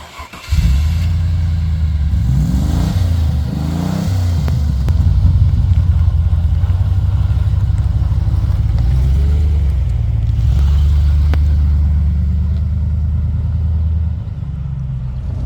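A Range Rover's V8 engine rumbles deep and loud from inside the car while driving, rising in a couple of revving pulls early on, then settling into a steady throaty drone, with no talking.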